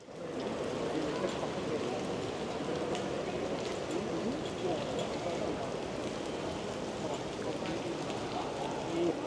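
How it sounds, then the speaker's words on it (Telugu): Water drops fall from the ceiling of Batu Caves in Kuala Lumpur with a steady rain-like patter that is even and continuous throughout, while a voice talks faintly in the background. "ఈ కేవ్స్ మీద స్టోర్ అయిన వాటర్ అన్నీ వాటర్ డ్రాప్స్ లెక్క కింద పడుతున్నాయి"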